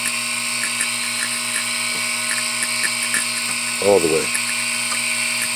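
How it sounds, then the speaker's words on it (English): An AC vacuum pump hooked to a car's air-conditioning system hums steadily with a high mechanical whine, while someone speaks briefly over it. "leave your pump running for a second here."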